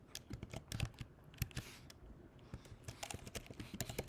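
Quick, irregular clacking of a laptop computer keyboard as git commands are typed, close and crisp, in short bursts with a brief pause near the middle and no talking.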